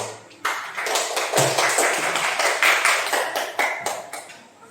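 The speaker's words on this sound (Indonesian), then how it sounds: "Tepuk tangan buat kelompok 2." A classroom applauds a student group with a burst of brisk clapping that starts abruptly after a short quiet moment, then holds fairly steady before tapering off at the end.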